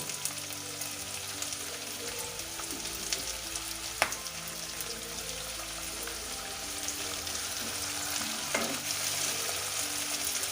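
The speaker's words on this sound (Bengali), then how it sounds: "আবার একটু ভালো করে নাড়বে পেঁয়াজগুলো একটু নরম হয়ে এসেছে" Chopped onions fry with green chillies for a Bengali gondhoraj chicken, a steady broadband sizzle with intermittent scraping stirs in the pan, close and continuous over the full stretch with no voices.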